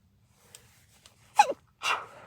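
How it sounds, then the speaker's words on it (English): A single sharp sneeze bursts out near the mic after a quick inhale, followed by a second breathy burst, with soft rustling beforehand. "Oh goodness, I'm gonna sneeze."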